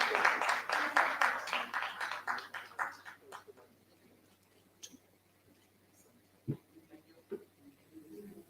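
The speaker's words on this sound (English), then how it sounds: "A round of applause, please." An audience applauds at an education summit, a burst of clapping that fades out after a few seconds, followed by scattered quiet room noises and isolated knocks.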